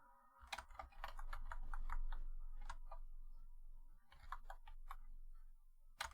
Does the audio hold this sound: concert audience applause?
no